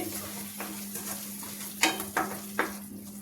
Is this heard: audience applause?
no